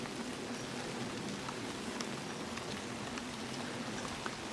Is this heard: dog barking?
no